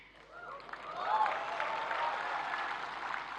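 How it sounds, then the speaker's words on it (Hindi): Audience applause at the National Creators' Awards in New Delhi, a crowded hall of clapping that swells after the first second and holds steady and dense, with a faint voice briefly audible at the start. "पुरुष ताली बजा रहे हैं"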